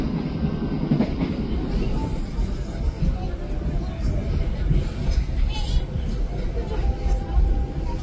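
Inside economy carriage K3-00607, a non-powered 2006-built coach of the Airlangga train, a steady low rumble and rail clatter continue with faint intermittent clicks.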